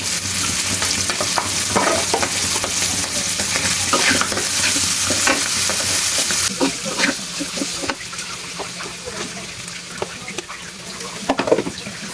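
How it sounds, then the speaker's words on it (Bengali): Liver fries in a pan with ginger and garlic paste, giving a loud, constant sizzle broken by sharp pops and crackles and occasional stirring scrapes. "কলিজা যখন ভাজা হয় তখন কলিজা ঠাস ঠাস করে ফোটে"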